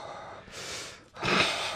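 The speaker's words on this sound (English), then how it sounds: "now it's heavy breathing" Heavy breathing close into a microphone: a long exhale, a brief pause, then a louder rushing breath.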